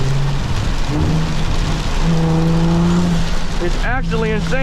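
Heavy rain and hail drumming on a 600 hp BMW 335is driving on a freeway through a thunderstorm, a loud steady wash of noise with engine drone underneath while a person speaks over it.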